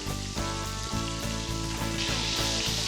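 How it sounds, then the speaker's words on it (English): Meat searing in bubbling oil with butter and oregano in a pan gives a dense, close sizzle with rapid crackling pops, steady throughout with no talking. "the oil is starting to stop bubbling quite as much, so we're getting cooked through"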